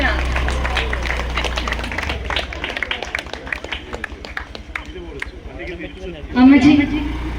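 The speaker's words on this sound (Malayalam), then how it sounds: "എല്ലാരും നല്ലൊരു കൈയടി കൊടുക്കാം." Crowd applause at a ward feast stage event, a long run of rhythmic hand claps from an audience, fairly close and steady, mixed with murmuring and a brief amplified voice near the end.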